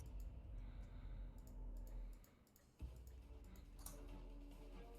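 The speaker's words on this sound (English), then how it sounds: "My mouse click is so loud." Sharp, isolated mouse clicks tap out at an irregular pace, faint and close, over a steady low background hum.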